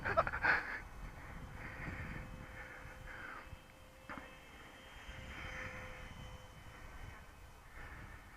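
Small RC BAE Hawk Red Arrow model jet flying at full throttle, a steady faint whining engine drone heard from a distance with light wind noise and no talking.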